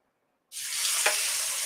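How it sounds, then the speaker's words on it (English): Food hits a hot pan and bursts into a loud, steady sizzle that continues without pause, close to the listener. "Listen to that sizzle."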